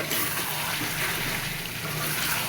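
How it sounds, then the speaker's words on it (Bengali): Water gushes steadily into a pot of meat and potato curry, a continuous close pouring splash with no pauses. "ঝোলের জল দিয়ে দিব"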